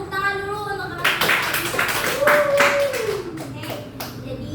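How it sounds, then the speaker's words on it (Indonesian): Classmates in a classroom group guidance session applaud with a few seconds of lively clapping, under and between spoken words. "Tepuk tangan dulu untuk teman-teman."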